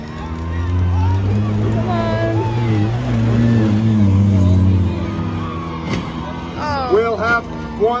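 A demolition derby car engine revs in surges, its harmonic whine rising and falling, heard at moderate distance while a crowd chatters and people shout in the background.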